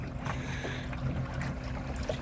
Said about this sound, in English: the trolling motor is awesome.